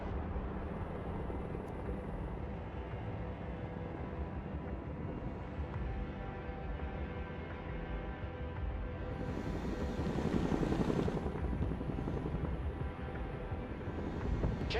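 A Chinook helicopter in the video game Broken Arrow gives a steady, loud rotor and engine drone that holds throughout and swells briefly past the midpoint.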